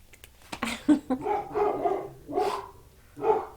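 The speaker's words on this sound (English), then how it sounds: "Just in time for the dogs to start barking." Dogs bark in a few sharp, fairly close bursts, with yips between them, in a quiet room with no one talking.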